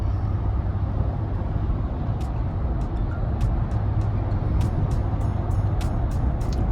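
A car on a short drive to a haircut appointment, its steady low engine and road rumble filling the cabin throughout, with faint ticks and small clicks above the drone and no talking.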